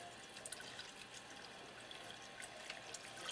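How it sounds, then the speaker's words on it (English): Purified water is poured into a beer brewing pot while making a pilsner, a faint, steady trickle and splash heard close up with no talk over it. "we're adding another gallon of purified water."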